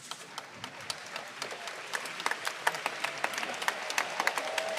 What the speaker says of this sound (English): Big cheer for both competitors